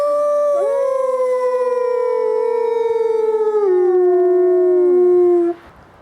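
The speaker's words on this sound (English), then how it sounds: "I wanted to hear nature's best chorus," Wolves in the Minnesota wilderness howling: a long, loud, sustained chorus of overlapping rising and gliding howls from several animals, ending abruptly after about five seconds.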